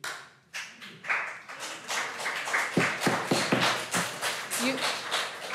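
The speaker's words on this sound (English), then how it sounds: "our rules are there's no clapping or snapping" An audience at a public meeting breaks into a short spell of scattered hand clapping, mixed with people talking and murmuring nearby, the claps sharp and uneven before fading back into voices.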